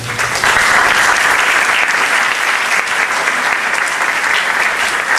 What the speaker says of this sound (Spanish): hay que recibir a la hermana con aplausos fuertes